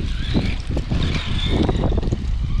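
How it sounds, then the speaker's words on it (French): Steady wind buffeting an outdoor microphone during a run of a 1988 Tamiya Terra Scorcher radio-controlled car, a loud continuous rumbling roar with gusty swells and no pauses. "On a un joli petit vent par chez nous."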